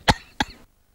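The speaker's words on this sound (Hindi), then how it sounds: "मेरा खासना महत्वपूर्ण नहीं है जी" A man coughs twice in quick succession, sharp and close, followed by silence.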